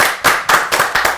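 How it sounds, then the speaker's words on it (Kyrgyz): Audience in a Kyrgyz TV studio show claps, a short run of sharp, fairly loud hand claps in a quick irregular rhythm, with no talk over them. "Кол чабуулар."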